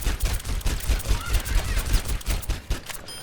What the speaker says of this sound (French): Ensuite, elle aura le petit pistolet.